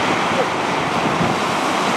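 Atlantic Ocean surf at the shore, a constant loud wash of waves with wind buffeting the microphone, no voices.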